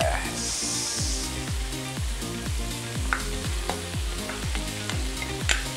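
Leftover rice stir-fried in a wok with chili and lemongrass for tom yum fried rice, sizzling and crackling steadily up close, with rhythmic scraping and tossing strokes of a spatula throughout and no talk.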